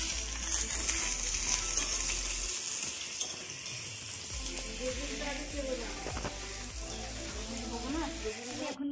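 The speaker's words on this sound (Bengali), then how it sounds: "এখন এখানে সব লুচি ভাজা বেলার সব কিছু হচ্ছে," Luchi deep-frying in hot oil during a family festival gathering, a soft continuous sizzle with stirring and clatter, under people chatting nearby.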